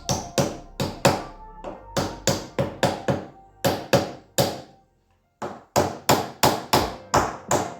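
Wooden wedges tapped into the tenons of a Tuam/Mayo-style chair seat during assembly, a close run of sharp mallet knocks in quick bursts of three or four, one short pause, then more steady blows.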